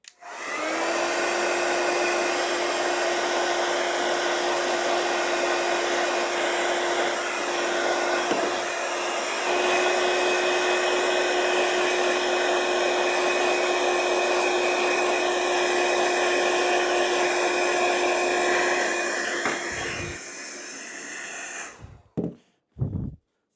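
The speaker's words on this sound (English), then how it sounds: "you can use a heat gun or a blow dryer" A heat gun or blow dryer runs as a steady, loud whine while smoothing wrinkles out of a truck's center console, holding for about twenty seconds before cutting off with a few brief clicks.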